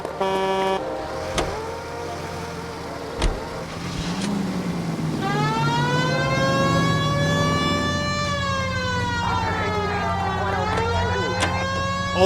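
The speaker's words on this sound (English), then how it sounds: "We have a siren." A police car siren in the video game L.A. Noire rises and wails in long sweeping cycles, loud and sustained over the engine hum, after a few short sharp knocks.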